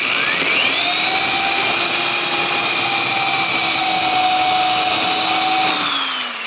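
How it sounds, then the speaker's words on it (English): A mini hole saw drills out spot welds on a Honda Integra body panel, a loud steady high whine that holds its pitch throughout and then winds down near the end. "This is basically a mini hole saw."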